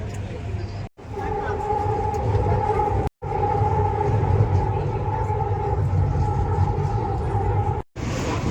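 A train rumbles steadily nearby with a low droning hum and humming tones, continuous apart from a few brief cut-outs; voices murmur faintly underneath.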